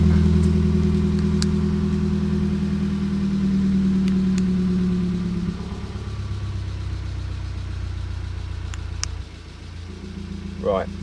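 A 2012 Golf GTI 2.0 TSI engine, rebuilt and fitted with an exhaust cutout, idles with a deep, loud exhaust rumble that drops in pitch partway through, steady and close throughout.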